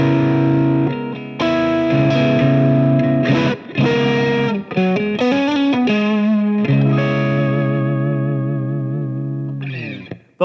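An electric guitar played through a Fender Tone Master Pro plexi amp model with a touch of spring reverb: loud, overdriven chords and short riffs ring out alone, with the last chord sustaining and fading.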